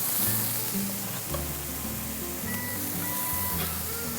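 Onions and garlic sizzle in rendered chicken-skin fat in a pan, a steady loud fry with crackling hiss throughout and a few soft clanks of a utensil, no voices.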